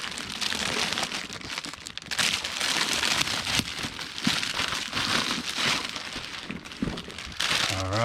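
A plastic bag crinkles and rustles nonstop as a sonar case is pulled out of it, with a taped edge tearing and crackling in uneven bursts, close and busy.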